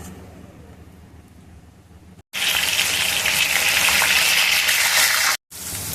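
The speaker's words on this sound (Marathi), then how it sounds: "सगळे कॉर्न तळून घेऊया" Corn kernels drop into hot oil in a kadhai and fry with a loud, steady hissing sizzle that fills the sound after a quieter opening, broken by a brief cut before the sizzle resumes.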